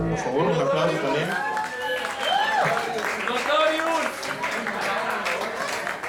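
Audience applause for band members at a brewery concert: steady mid-level clapping from a crowd mixed with chatter and voices, continuing for several seconds.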